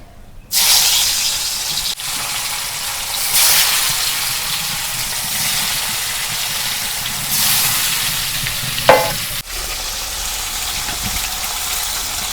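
Rupchanda (pomfret) fish frying in a pan of oil, a steady broadband sizzle with surging bursts and a brief crackle near the end, no voices.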